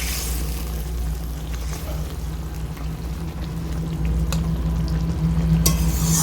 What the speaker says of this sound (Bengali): মাছটাকে আমি বেশ কিছুক্ষণ ফুটিয়ে নিয়েছি